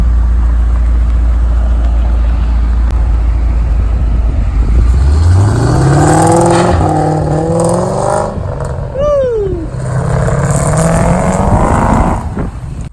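A supercharged 2005 Ford Mustang GT engine idles low, then revs up in several climbing pulls with a sharp supercharger whine. It sounds loud and close, and the revving dies back between the pulls.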